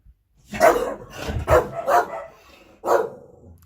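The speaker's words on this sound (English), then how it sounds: "That's the dogs being naughty." Dogs bark in close, loud bursts, four or five sharp woofs in an uneven run with brief pauses between them.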